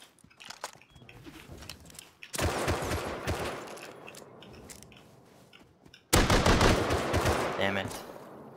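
Python revolver gunfire in the survival game Rust, with dense bursts of shots coming in two loud stretches over quieter background rustle.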